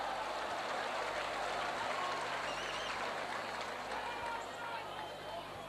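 A stadium crowd at a 1990 rugby league match between Leeds and St Helens cheers in a steady, broad roar that fades slightly toward the end, with a commentator's voice faintly underneath.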